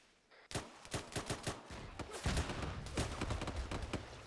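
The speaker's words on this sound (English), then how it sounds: "Fucking mortar fire." Rapid, loud bursts of gunfire and heavy impacts from mortar fire in the military shooter Arma 3, a dense battlefield barrage of repeated sharp cracks followed by rumbling explosions that sustain without pause.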